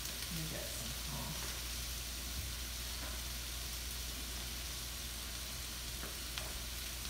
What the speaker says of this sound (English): This is sizzling too.